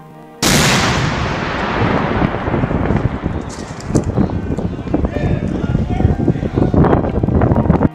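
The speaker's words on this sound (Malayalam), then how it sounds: "പരീക്ഷണ വെടിവെപ്പും തകർത്തു" A replica cannon from the 17th-century Swedish warship Vasa is test fired in Sweden, one sudden, very loud blast followed by a long rumbling roar and echoing outdoor noise that carries on for several seconds.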